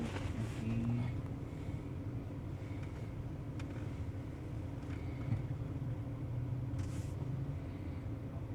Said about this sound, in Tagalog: Traffic mo sa Davao ron.